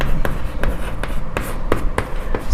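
A pen writes an answer on paper, moving in quick scratchy strokes with regular taps of the tip, close up and alone with no speech.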